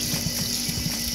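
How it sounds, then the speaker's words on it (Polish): A brief, steady rush of warm water from an outdoor tap at a campsite, close by and without any voices. "Tutaj jest kran, to się troszkę schłodzimy."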